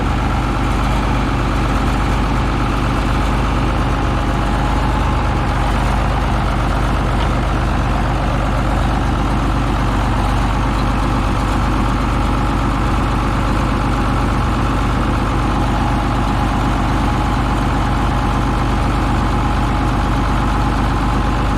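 A Minneapolis Moline 585 tractor engine idles steadily, a deep, even, loud rumble that holds without change throughout, heard up close with no talking.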